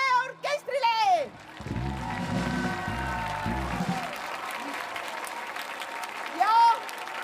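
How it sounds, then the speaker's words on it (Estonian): Audience applause for the orchestra at a Tallinn kindergarten children's song festival, a steady broad wash of clapping lasting several seconds, with a voice speaking briefly at the start and end. "üks aplaus veel meie orkestrile!"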